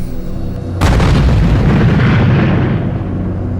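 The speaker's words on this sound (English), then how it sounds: "There's been another explosion in a similar direction about an hour and 10 minutes after the last." Bomb explosion in Afghanistan: a single sudden deep boom over steady background rumble, followed by a long rolling decay, loud and heavy though somewhat distant.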